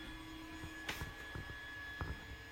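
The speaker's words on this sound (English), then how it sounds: "Printer is running the new file." A printer running a new print job in a woodworking shop gives a faint, steady motor hum with sustained whining tones and a few soft clicks and knocks scattered through it.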